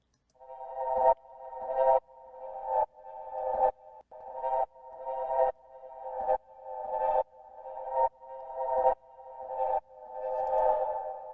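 A sustained synth tone repeats in about a dozen evenly spaced swells, each fading in and cutting off, its harmony gradually shifting as it goes.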